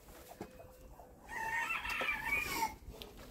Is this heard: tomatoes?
no